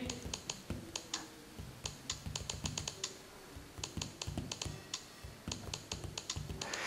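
Typing on the detachable keyboard of a Samsung Galaxy Note Pro 12.2 tablet produces fast, light plastic key clicks, close and steady in irregular runs with brief pauses and no voices.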